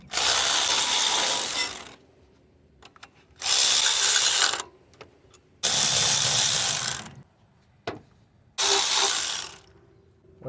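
A ratchet wrench loosens 14mm bolts holding a bracket on a Toyota Camry 2.2L engine, in four loud bursts of rapid clicking, each about one to two seconds, separated by short pauses with faint handling noise.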